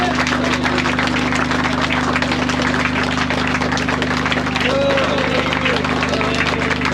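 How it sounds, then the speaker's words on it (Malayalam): An audience claps steadily in a hall to honour a man, the sustained applause running throughout at an even level over a low background hum. "എല്ലാവരും നിറഞ്ഞ"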